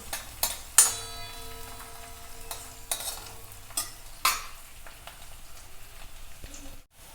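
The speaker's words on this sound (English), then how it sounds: "Now we're going to cook this on the medium flame until these" Garlic fries in a pan over a medium flame for a Rajasthani red chilli chutney, giving a soft, crackling sizzle broken by sharp, irregular clicks and scrapes of a spoon stirring, close up with no talk.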